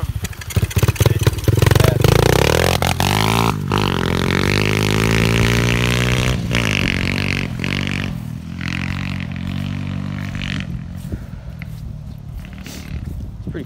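Pit bike engine fitted with a new exhaust, running cold and warming up nearby: a loud rough roar rises and falls through several revs, then settles into a lumpy idle.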